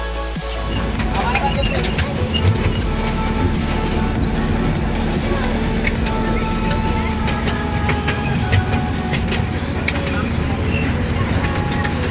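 A small toy train in a park rumbles and clatters steadily close by for the whole stretch, with people talking over the running noise.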